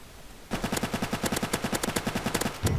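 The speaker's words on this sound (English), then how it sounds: "We're receiving fire from this side" Video game gunfire, a quiet lull then a sudden sustained burst of rapid, evenly spaced automatic shots lasting over two seconds, loud and close, ending with a heavier thud.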